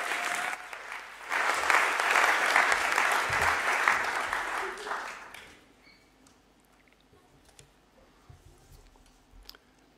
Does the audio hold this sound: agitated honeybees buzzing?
no